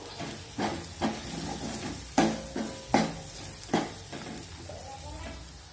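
Ground spices including coriander powder are stirred into a hot pan for a quick drumstick (shevga) vegetable dish, a steady sizzle broken by about six sharp scraping stirs of the spoon, close and fairly quiet, with no talking.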